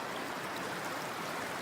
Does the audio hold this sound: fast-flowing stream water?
yes